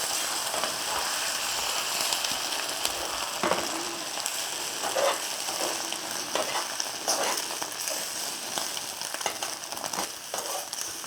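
Eggs with oil and butter sizzle in a pan as an omelette cooks, the edges dragged inward with steady scraping strokes under a continuous close frying hiss.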